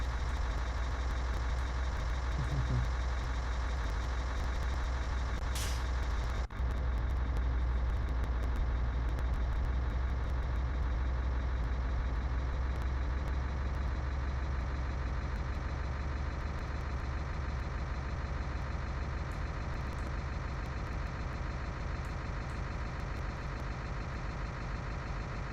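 Engine of a cherry picker truck in a truck driving video game, a steady low droning rumble that runs unbroken throughout, with a faint reversing-style beep riding on top and a brief click early on.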